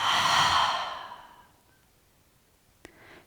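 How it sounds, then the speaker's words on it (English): A deep breath drawn in through the nose and let out through the mouth in a long, close sigh that fades away, then a faint click and a short soft breath, with no talk. "One more time, inhale through your nose. Let go through your mouth."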